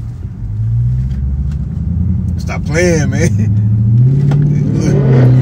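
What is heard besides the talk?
Dodge Hellcat engine revving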